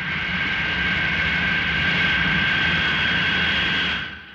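A jet airliner pulls away from an airport terminal: a loud, steady whining roar holds evenly, then drops off sharply at the end.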